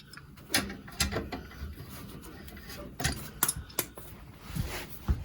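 Small pipe wrench working a little cap off brake parts on an early Mopar with grease-contaminated brakes, giving a string of close metallic clicks, ratcheting scrapes and taps in uneven bursts, with no talk.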